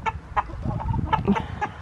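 Several chickens cluck nearby in short, irregular bursts, fairly quiet, with no one talking.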